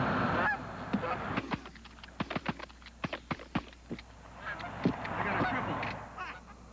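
A flock of Canada geese in the Twin Cities metro area keeps up a busy run of short, overlapping honks. The calls are close and varied over a murmuring outdoor background.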